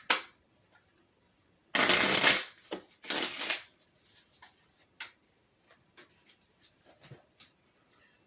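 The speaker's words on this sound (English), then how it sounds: "let's shuffle." A deck of cards shuffled twice in quick riffling bursts, close and fairly loud, followed by light scattered taps and card handling in a quiet room.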